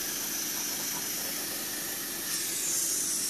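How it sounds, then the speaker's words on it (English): A paint sprayer hisses steadily while coating a model flatcar, a continuous broadband spray that stays level throughout and grows a little louder near the end, with no voices. "I'll just go shut off the paint sprayer and let this dry for a while"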